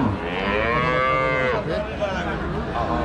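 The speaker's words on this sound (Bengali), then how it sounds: "মোটামুটি অনেক গরুই আছে এখানে বাজারে, দুধের গরু।" Dairy cows mooing at a busy cattle market in Joypurhat, several long drawn-out lowing calls overlapping close by against a steady crowd murmur, with no clear speech.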